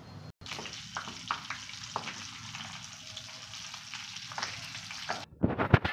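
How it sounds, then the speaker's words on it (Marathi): Batata vada potato fritters deep frying in hot oil, a steady close sizzle with small crackles and bubbling, ending in a louder burst of clatter. "असे हे बटाटे वडे आता आपण तेलामध्ये तळून घेणार आहोत"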